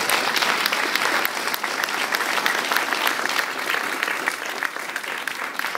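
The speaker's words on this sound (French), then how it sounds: "et puis on peut l'applaudir" An audience at a 2010 New Year's civic ceremony in Courville-sur-Eure applauds Marie-Claude with a dense, steady roar of many hands that holds at an even, loud level throughout.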